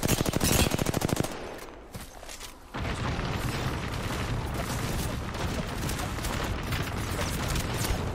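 Rapid automatic gunfire in a competitive online shooter, loud and close, with a dense burst at the start, a short lull, then sustained continuous firing to the end.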